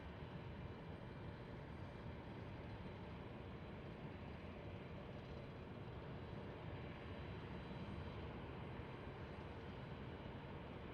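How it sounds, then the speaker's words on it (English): A formation of four F-16 fighter jets roars past an airport in Tucson, a broad, steady, distant jet rumble that fills the whole stretch with no voices over it. "Nice little 4-pack there of F-16s."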